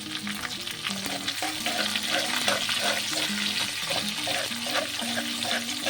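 Garlic and green chilies sizzle and crackle steadily in hot oil in a pan, a continuous close frying hiss with no talking.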